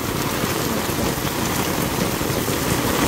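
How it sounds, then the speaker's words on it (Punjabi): Heavy rain pours steadily on a farm after days of heat, a dense, even roar of drops striking surfaces close by for the whole stretch, with no voices. "ਬਹੁਤ ਜ਼ਿਆਦਾ ਮੀਂਹ ਝਾਂਜਾ ਹੈ ਨਾ"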